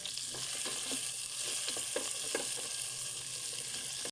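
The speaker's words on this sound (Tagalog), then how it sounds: "Ayan, igisa po natin sila lahat." Beef, vegetables and potatoes sautéing together in a pan give a steady, loud sizzle, with scattered scraping clicks from stirring throughout and no voices.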